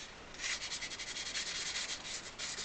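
Fine 400-grit sandpaper rubbing a thin, delicate register switch from a Crucianelli 80-bass accordion with jammed treble switches, a close, steady run of quick scratchy back-and-forth strokes with no talking.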